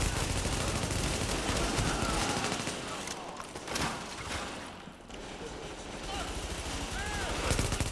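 Rapid gunfire from a semi-automatic sniper rifle in the shooter The Division, loud and nearly continuous with dense overlapping shots and battle noise, and a voice talking over it.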